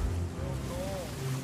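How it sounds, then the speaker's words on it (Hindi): Sailing ship heading into a storm in the Sea of Thieves video game, with steady rushing waves and wind rumbling throughout and a faint tonal whine rising and falling in the middle. "हम तो सीधा तूफान में जा रहे हैं मेरे भाई"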